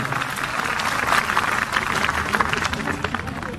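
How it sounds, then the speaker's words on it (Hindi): An audience at a large religious fire-ritual gathering applauds themselves, a steady, fairly loud stretch of many hands clapping with some crowd noise throughout. "ताली बजाओ आप अपने लिए एक बार"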